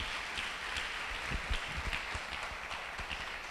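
Church congregation applauding together at a worship service, a dense steady wash of hand claps with a few sharper individual claps standing out, moderately loud and continuous without talk.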